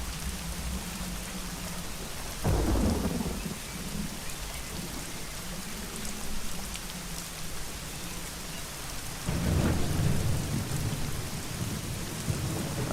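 Steady heavy rain hisses through a scene in the Secret Files Tunguska adventure game, broken by two deep rumbles of thunder, one near the start and one later, swelling and then fading.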